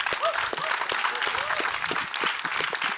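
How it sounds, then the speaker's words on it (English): Audience applause at a product announcement event, steady dense clapping throughout with a few faint voices and whoops mixed in. "Let's give him some applause and get him pumped up to come up here."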